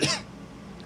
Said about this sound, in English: Just coughed all over myself.